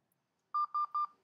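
Three quick pairs of DTMF keypad tones beep in a tight rhythm over a radio into an Argent Data Systems ADS-SR1 simplex repeater, clean and electronic, followed by silence.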